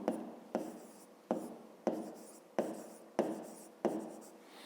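Pen strokes scratch across paper in seven short, evenly spaced bursts as maths exercise answers are written out by hand, close and soft.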